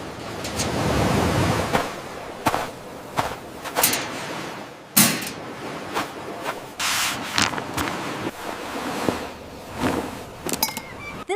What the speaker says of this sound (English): I love wave sound, Dad.